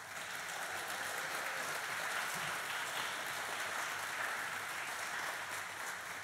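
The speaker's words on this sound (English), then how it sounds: "Let's give these kids another thunderous round of applause" A large crowd at a high school spring band concert applauds in a sustained, even wash of clapping, heard from some distance and fairly faint, with no pauses and no speech.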